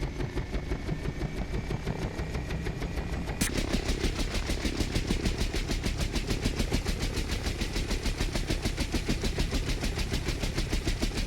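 UH-1 Huey turbine helicopter in a flight simulator starts up, a dense roaring whine with a rapid steady chop as the rotor spins up, growing louder and brighter partway through and staying loud and continuous.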